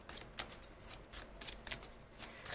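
Tarot cards being shuffled by hand in a steady stream of soft, papery riffles and slaps, close and continuous with small rhythmic bursts, no talking.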